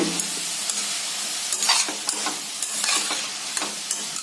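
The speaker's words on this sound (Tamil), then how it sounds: "இதையும் அப்படித்தாங்க நல்லா 1 நிமிஷம் வதக்கி விடுங்க" Beetroot and potato sizzle and fry in a hot pan while a utensil stirs and scrapes them in irregular strokes, close and continuous.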